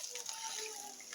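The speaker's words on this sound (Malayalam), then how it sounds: "ഇതാ ഞാൻ 2 ഗ്ലാസ് വെള്ളം ഒഴിക്കുന്നുണ്ട്." Water pours into a jar of salted pineapple pickle brine in a short, faint trickling splash.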